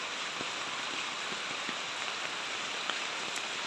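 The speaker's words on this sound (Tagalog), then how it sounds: "Umuulan na." Steady rain falls as a typhoon approaches, a dense continuous hiss with scattered individual drops pattering close by, even in level and with no voices.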